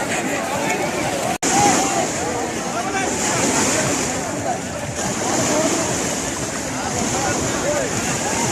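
Sea waves wash steadily onto a busy beach, a continuous loud surging roar mixed with wind buffeting the microphone and crowd voices.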